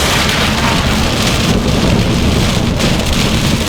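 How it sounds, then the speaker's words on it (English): Heavy hailstorm with rain and thunder pounding down during spring RV travel, a dense, steady roar of falling rain and hail that stays loud and close throughout, with no talking. "the storm has gotten thicker. Hailstorm. Hailstorm."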